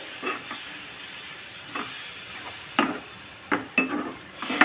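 Nethili (anchovy) fish and spices being stirred in oil in a pan for kuzhambu, a soft steady sizzle with several scraping stirs of a utensil, moderately close, no talking.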